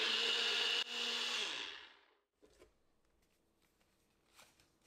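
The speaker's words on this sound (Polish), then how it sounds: "i blendujemy dosłownie paręnaście sekund" A kitchen blender whirs loud and high while blending coconut milk into a creamy mousse, then winds down and stops, leaving faint clicks and small handling sounds.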